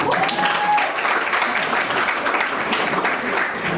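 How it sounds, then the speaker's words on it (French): Audience at a school event applauding steadily, a dense wash of many hands clapping at close range throughout, with no talk over it. "Applaudissez pour l'école."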